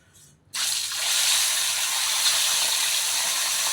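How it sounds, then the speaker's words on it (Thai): Snakehead fish from the paddies, coated in batter, hits hot oil with a sudden loud burst of hissing that settles into a dense, continuous crackling sizzle. "ไปเดี๋ยวไปทอดปลากันเลยพี่น้อง ทอดให้เหลืองกรอบเลย"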